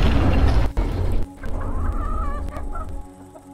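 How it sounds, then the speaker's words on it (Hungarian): Chickens in the space survival video game Breathedge give loud clucking and gobbling fowl calls, a dense burst at first, then a few rising, warbling calls that fade toward the end. "Tehát csirkék ülnek a moziba."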